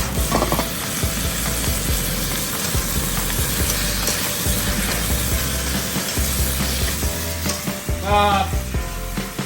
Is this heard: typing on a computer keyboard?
no